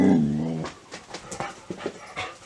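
A dog vocalizes in a few short, sharp bursts after a brief tonal whine, moderately close and not very loud, in a quiet indoor setting.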